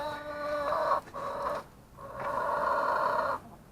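Chickens in a backyard chicken coop give two drawn-out, nasal clucking calls, close and fairly loud, separated by a brief pause, with no talking.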